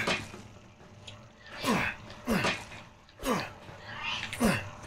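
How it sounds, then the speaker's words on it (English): A small child sneezing somewhere nearby, muffled as if through walls, comes as four or five short bursts spread over several seconds, with a faint background hum and no speech. "That's my little nephew sneezing."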